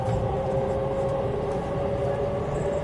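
Steady interior rumble aboard the View Sazanami limited express train on the Boso line, a continuous close hum of running wheels and motors with a tonal drone, no voices.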